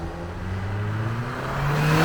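A Toyota Tacoma TRD Pro pickup accelerates hard from a standstill in a 0-60 run, its engine note climbing steadily and growing louder over two seconds, heard from inside the cab.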